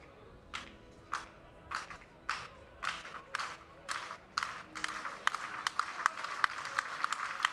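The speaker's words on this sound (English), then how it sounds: "Clapping from the crowd" A crowd at an under-20 club athletics meet in Castellón, Spain, claps in slow unison for a jumper on the runway. The separate claps start spaced out, then speed up and grow louder.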